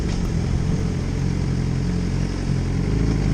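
A motorcycle engine drones steadily while riding, with constant low rumble and wind noise throughout and no talking.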